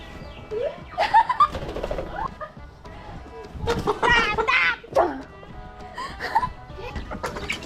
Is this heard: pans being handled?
no